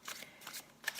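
A deck of playing cards is shuffled in several quick riffling bursts, close and crisp, alone with no voices.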